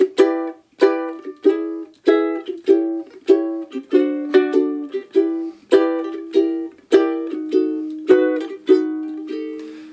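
Plucked ukulele jazz chord voicings ring out one after another in a relaxed, evenly spaced rhythm, each voicing struck cleanly and left to decay, with no voices.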